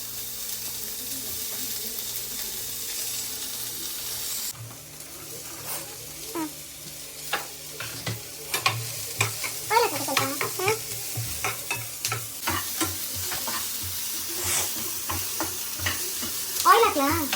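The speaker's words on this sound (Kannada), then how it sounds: "ಹಾಂ ನೀರುಳ್ಳಿ, ಕಾಯಿಮೆಣಸು ಹಾಕಿ ಹುರಿ." Onion and green chilli fry for uppittu, with a steady sizzle and a run of repeated spoon scrapes and stirring knocks close by; a low hum comes first, then the frying grows busier.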